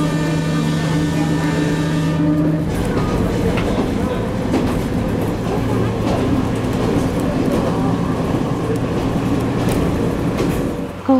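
A train on the JR Shikoku Iyo-Nada Line rumbles steadily along coastal tracks, loud and close, with a constant rolling drone and faint rhythmic clatter.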